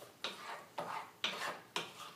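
A spoon stirs red pepper flakes into a pasta pomodoro sauce in a pot, four evenly spaced scraping strokes, close and fairly quiet, with no talk.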